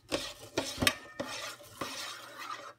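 A utensil mixes olive oil in a bowl, giving several quick scraping strokes and light clinks in an uneven rhythm, close by and fairly quiet, with no voices.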